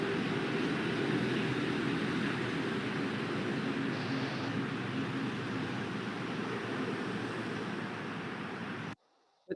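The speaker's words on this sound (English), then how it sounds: "So when you just listen to this traffic noise" Steady broadband road traffic noise, a continuous wash of passing vehicles at moderate distance, runs unbroken for about nine seconds before cutting off abruptly at the end.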